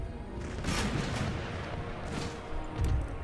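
Round-shot cannon volleys thunder in an Empire: Total War battle, a rapid series of heavy booms and cracks, several overlapping blasts close together with a final loud report near the end.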